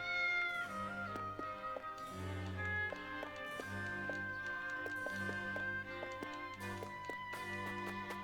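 A cat meows inside the video game Triangle Strategy, with short mewing calls heard over steady game music and chiming tones. No one speaks.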